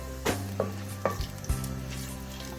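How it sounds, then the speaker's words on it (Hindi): Garam masala sizzling as it hits pre-heated oil in a pan for chicken fry, a steady fry hiss broken by a few sharp pops and clinks of stirring, close and clear with no talking. "ऑयल हमने पहले गरम किया हुआ है, इसमें हम डालेंगे थोड़ा सा गरम मसाला"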